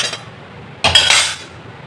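The metal lid of a pressure cooker settles onto the pot while village-style arbi sabzi cooks: a single sharp, close clank with a brief ringing tail in an otherwise quiet kitchen.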